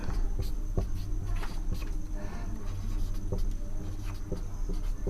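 Pen scratching across paper as a maths problem is written out by hand, a steady run of short scribbling strokes with small pauses between words, close and fairly clear over a low room hum.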